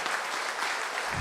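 Audience applause at a pharmacy conference in India, a dense, continuous patter of many hands clapping at steady volume with no voices over it.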